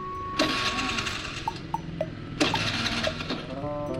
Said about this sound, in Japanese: ちゃんと給油したからエンジンつくよね